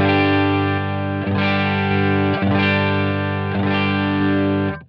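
Electric guitar played through a Line 6 Helix preset with the compressor switched off, a sustained distorted, effects-laden chord struck three times and ringing loud and steady before cutting off.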